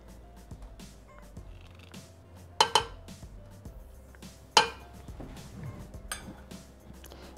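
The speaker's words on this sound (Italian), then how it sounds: "chiudiamo con il coperchio e il misurino" A Thermomix mixing bowl being closed with its lid and measuring cup after squash and stock cube go in, giving two sharp clacks of plastic a couple of seconds apart, with light clatter and soft handling noise around them.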